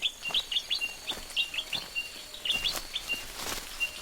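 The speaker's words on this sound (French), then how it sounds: "et le piaillement des oiseaux" Several birds chirp and tweet in quick, repeated bursts, fairly close, over a quiet background, in a tropical forest in southern Togo.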